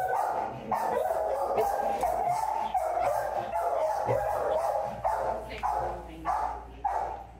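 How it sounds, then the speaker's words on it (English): A dog barking repeatedly nearby, a loud run of sharp barks and yips at an uneven rhythm, with faint voices in the background. "Their dog barked and scared the bejesus out of me."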